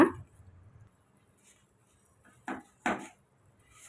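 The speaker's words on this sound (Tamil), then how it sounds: "நல்லா பாகையெல்லாம் மிக்ஸ் ஆகிற மாதிரி நல்லா கலந்து விட்டுருங்க" A few close clinks and scrapes of a spoon in a pan, with two clearer knocks near the end, as sesame seeds are mixed into thick jaggery syrup for sesame sweets, against near silence.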